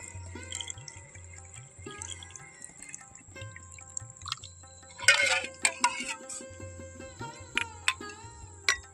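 Water poured into a jar of amla gooseberry pickle with chillies, made without oil or spices, splashes and trickles in short bursts, with a few drips, under quiet background music.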